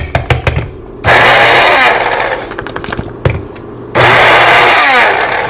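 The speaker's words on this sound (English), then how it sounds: "Now we're gonna blend the tomatoes, and then we're gonna blend the onions and the peppers together." A kitchen blender chops tomatoes, onions and peppers in loud bursts, two long whirring runs broken by short pulses and rattling pauses, close and harsh.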